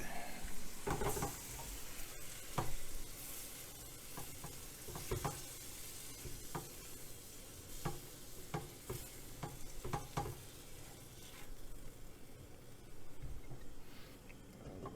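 Pork roast in onion gravy sizzling in a pan on high heat, a steady bubbling fry with scattered stirring scrapes and clicks, quiet and continuous with no talk.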